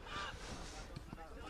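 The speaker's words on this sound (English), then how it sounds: "That sound you can hear in the audio effects, it is indeed a rooster crowing" A rooster crows loudly close by at a football match, a short honking call standing out over the background crowd and commentary.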